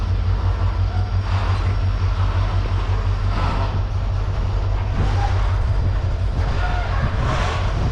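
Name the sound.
cargo train moving on rails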